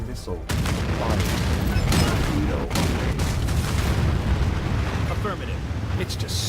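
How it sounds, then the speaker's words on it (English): A nuclear missile is fired in the strategy game Anno 2205, giving a sustained roaring, crackling barrage of explosive rumble with sharp bursts layered throughout, loud and continuous for several seconds. "Nuclear missile fired."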